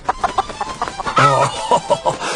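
Cartoon chickens cluck in a busy, rhythmic run of short squawks, with one longer drawn-out crow-like call in the middle, loud and close.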